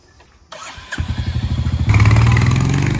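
A motorcycle engine cranks in a quick run of rhythmic pulses, then catches and settles into a loud, steady idle close by with no talking.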